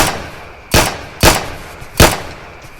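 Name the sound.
gunshots in a Roblox video game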